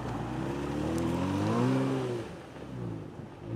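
A Kia Stinger with all-wheel drive pulls away through about 10 cm of snow, its engine droning louder and rising in pitch as it accelerates close by, then easing off.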